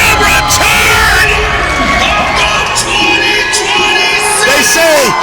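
Video game wrestling arena crowd cheering loudly and continuously, with shouts, whoops and high-pitched yells rising and falling in a dense, energetic roar.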